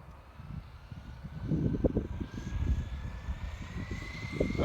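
A Traxxas Slash RC truck fitted with a large 31-tooth pinion runs its electric motor in a steady buzzing whine that swells and surges in bursts as it moves, heard outdoors with no talking.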